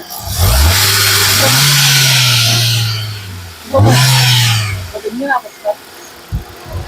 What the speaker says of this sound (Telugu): ఒకసారి ఎక్సలేటర్ ఇచ్చి ఇంజిన్ యొక్క నాయిస్ అనేది మీకు వినిపిస్తున్నాను